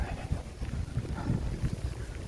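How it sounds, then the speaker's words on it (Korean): Strong wind blowing in the rain outdoors, a steady low rushing roar with gusty buffeting close to the microphone and no voices. "바람이 좀 많이 불고 있습니다"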